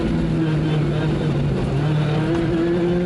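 A rally car races flat out on a bumpy tarmac stage near Rome during the European Rally Championship, its engine a steady, loud, droning roar held at high revs throughout.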